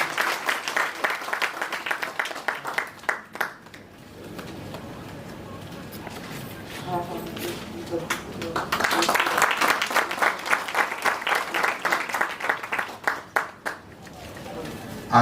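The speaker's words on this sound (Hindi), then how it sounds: "प्लीज एक बार जोरदार तालियां बजाएं।" Applause from an audience at an SBCCI event honouring guests on stage, dense clapping that rises, thins into a gap, then swells again, with a voice speaking over the middle stretch.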